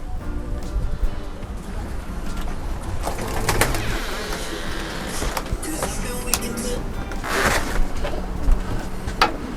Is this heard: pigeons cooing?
yes